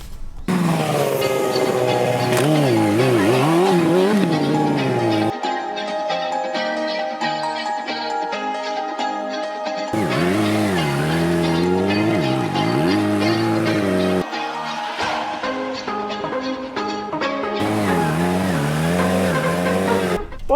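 A motorcycle's engine revs and falls in long wavering sweeps, loud and close, with alternating stretches of high whine and lower steady drone.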